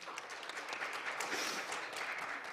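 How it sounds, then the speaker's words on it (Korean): Quiet audience applause welcoming a panelist at a forum on voluntary carbon reduction markets, a soft continuous patter of many hands heard at a distance. "박수로 맞이해 주시죠."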